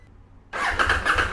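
A 2022 KTM Duke 890R motorcycle fitted with an Akrapovic exhaust cranks and fires up after a quiet moment, its engine catching halfway through and settling into a loud, throbbing idle close to the microphone.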